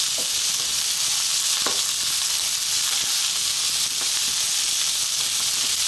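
Chicken, mushroom and carrots stir-frying in a pan give off a loud, continuous sizzle and hiss, with a few faint clicks of stirring scattered through it.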